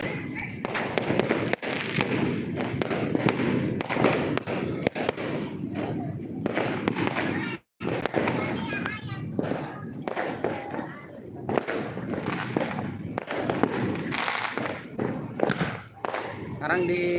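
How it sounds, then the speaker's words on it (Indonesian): Firecrackers and fireworks going off all over Makassar city at New Year, a dense, continuous rumble of pops and thuds from near and far, with voices talking throughout. "Seluruh penjuru kota Makassar bergemuruh oleh suara petasan dan kembang api."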